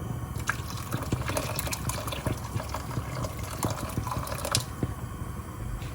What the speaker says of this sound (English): I just finished rinsing my pondu, and I'm gonna pour a bit of water